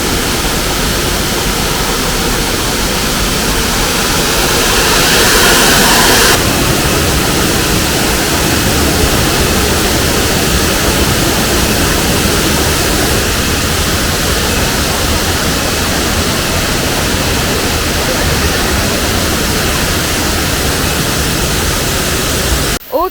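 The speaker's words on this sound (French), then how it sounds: "La première cascade est là." Amerta Waterfall at Wanagiri, Bali, heard as a loud, unbroken roar of falling water close by, with a dense, steady rush that holds for the whole stretch.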